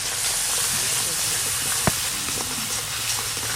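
Ground spices made into a paste with water are tipped into hot oil, giving a steady close hiss and sizzle with a brief clink partway through.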